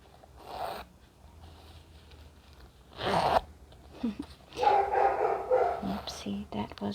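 A dog barks a few times somewhere in the distance outside, mixed with rustling and soft handling noises of a leather bag nearby.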